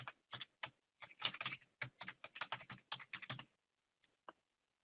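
A password being typed on a computer keyboard at a login page, a quick burst of light key clicks in an uneven rhythm, close and quiet, ending in a few isolated taps.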